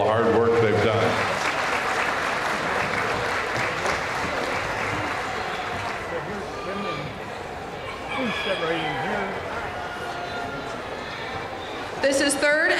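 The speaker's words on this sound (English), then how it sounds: "Give these kids a big round of applause for all the hard work they've done." Audience applause at a county fair poultry show, a dense, steady clapping that fills most of the clip and tapers off near the end, with voices mixed in.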